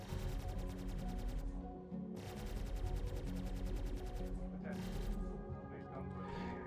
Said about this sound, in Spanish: Para que se escuchen también los disparos